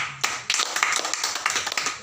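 A small group clapping at a morning meeting of a drug rehabilitation foundation in Nias, a close, uneven burst of quick handclaps with separate sharp strikes and no talk.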